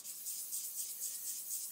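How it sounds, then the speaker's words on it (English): A flat sanding stick works across a plastic part of a 1/35 scale Ju87 Stuka model kit, giving a steady, close, hissing rasp in even back-and-forth strokes with no talking. "I'm just gonna sand this with this flat stick, go in a straight motion or a circular motion"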